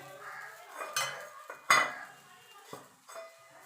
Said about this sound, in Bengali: চালের যে গোলাটা করে রেখেছিলাম সেটাকে এইভাবে গুলিয়ে মানে নাড়িয়ে দিতে হবে